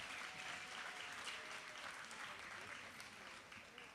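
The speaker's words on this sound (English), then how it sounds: "Can you agree with me that deserves another round of applause?" Audience applause at a high school graduation ceremony, a steady broadband wash of many hands clapping that holds at a constant level for the whole stretch and tapers only slightly near the end.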